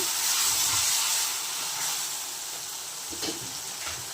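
Ginger garlic paste frying in oil in a pan for a Rayalaseema-style country chicken curry, giving a loud, steady sizzling hiss with soft stirring scrapes throughout, heard up close with no talking.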